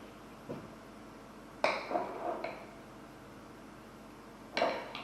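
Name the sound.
spoon clinking while measuring coconut flour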